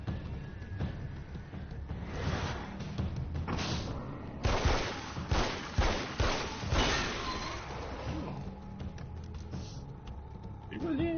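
Gunshots sound in the video game Alan Wake's American Nightmare, a run of sharp thumping shots midway through, heard under someone talking and game ambience.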